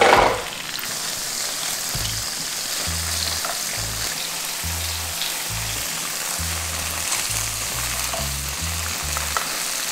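Tofu frying in about a tablespoon and a half of oil in a pan, a loud, continuous close crackling sizzle that flares briefly at the start, with a low intermittent hum beneath and no talk.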